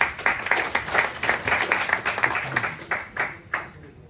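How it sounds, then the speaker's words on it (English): An audience at a startup pitch session gives a round of applause after a pitch, with steady, moderately loud clapping that thins out into scattered claps and fades. "Round of applause."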